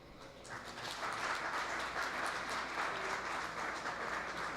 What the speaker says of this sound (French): je vous demande d'applaudir ces confrères-là